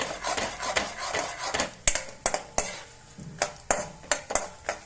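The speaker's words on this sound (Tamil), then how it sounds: "உளுத்தம் பருப்பு எல்லாத்தையும் போட்டு நல்லா வறுத்துண்டு" Urad dal, cashews and peanuts fry in a pan with a steady crackling sizzle, while a spoon stirs through them and strikes the metal in sharp, irregular taps and scrapes, close up with no talking.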